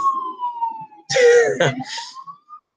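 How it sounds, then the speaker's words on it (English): An emergency vehicle siren wails outside in steady rising and falling tones, while a nearby voice briefly talks and coughs over it. "that's like the third siren I've heard in the last 10 minutes"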